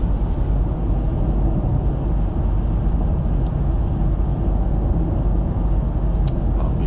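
A 2024 Cadillac CT5 Luxury sedan cruising on the highway, heard as a loud, steady low road and engine rumble with constant tire noise and no breaks.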